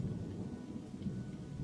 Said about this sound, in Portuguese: Imaginem só, está chovendo